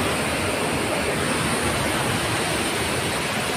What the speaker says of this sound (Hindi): पानी का बहाव कितना है तेज रफ्तार